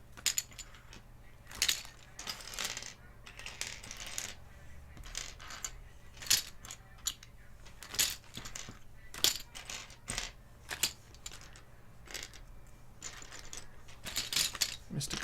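Plastic keyboard keycaps from a grab bag being sorted, giving repeated light clicky clatters and rattles in irregular bursts close by over a low steady hum.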